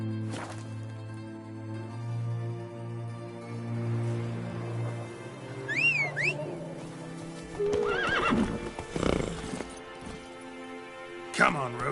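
Roach, Geralt's horse in The Witcher 3, moves along with hoofbeats and lets out a couple of sharp whinnies partway through, over sustained in-game music.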